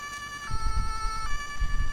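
A Polish police car siren wails in steady, sustained tones from start to finish, layered over a low, pulsing engine rumble from a farm vehicle out in the countryside during the harvest.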